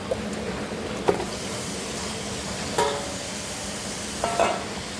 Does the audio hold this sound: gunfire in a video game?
no